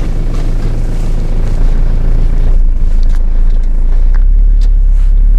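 A 1999 Renault Trafic van's engine running, heard from inside the cab as a loud, steady low drone and rumble that deepens and settles partway through, with no talking.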